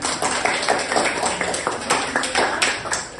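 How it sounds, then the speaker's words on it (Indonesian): A small group in a classroom clapping for a few seconds, uneven hand claps close by, steady and moderately loud. "kita beri tepuk tangan ya"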